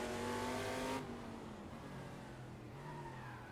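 A McLaren M8C race car engine in a VR racing game at Laguna Seca screams loudly at high revs, then drops to a lower, steady throttled drone with a slight rise near the end.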